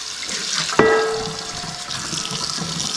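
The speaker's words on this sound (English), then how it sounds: "So just hot water, no soap." Hot tap water rinses a carbon steel skillet in a sink, a steady close splashing flow with a sharp metallic clunk early on that rings briefly before the running water continues.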